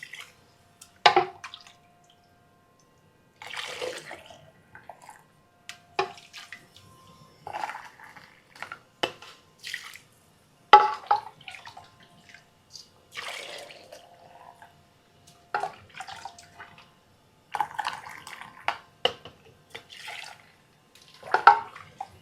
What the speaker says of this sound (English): we're just gonna fill these to the bottom of the neck of the jars